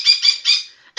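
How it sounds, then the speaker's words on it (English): A pet bird squawks in a quick series of three harsh, raspy calls, close and loud, followed by a brief pause and one more squawk. "She's basically doing the bird equivalent of blowing raspberries at me"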